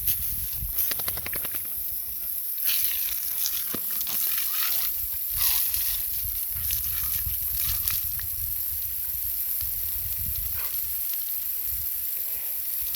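A dog splashes and plays in water, irregular sloshing and splashing bursts at close range with occasional clatters, then a quieter stretch of watery movement.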